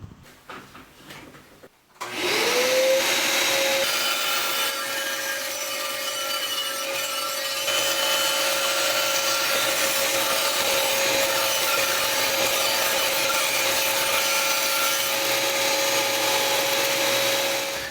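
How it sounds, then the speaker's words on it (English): A bandsaw starts with a rising motor whine, then cuts a wooden circle steadily with a loud, continuous rasping hum. "now let's cut this circle on the bandsaw."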